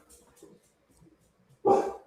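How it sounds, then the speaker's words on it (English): A dog gives a single loud, sharp bark indoors after a stretch of quiet, muffled talk. "Uh-oh. Is that your dog?"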